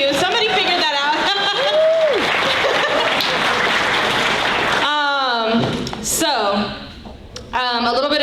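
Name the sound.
audience applause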